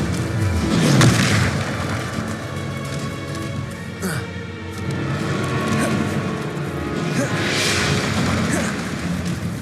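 Bombarda spells in Hogwarts Legacy go off as loud, near, rumbling explosive booms amid continuous combat noise, with several blasts spread across a dense, busy fight and speech running underneath.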